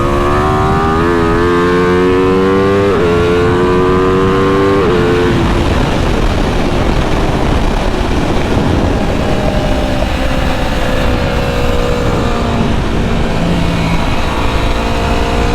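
An Aprilia motorcycle with a dB killer fitted accelerates hard around a race track, its engine climbing through the revs with shifts, then settling into a loud steady rushing roar with wind noise throughout.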